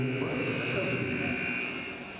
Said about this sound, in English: Jeff, that buzzer can make anyone go deaf right now.